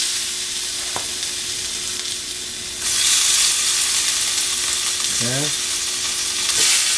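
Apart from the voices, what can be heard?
veggie fritter mixture frying in avocado oil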